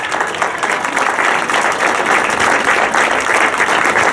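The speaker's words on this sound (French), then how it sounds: "on peut l'applaudir bien, bien fort." A festival audience applauds loudly at the opening ceremony of the Papillons de nuit festival, a dense, steady wash of many hands clapping that holds close and full for the whole stretch.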